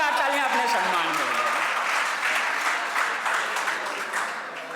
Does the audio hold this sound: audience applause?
yes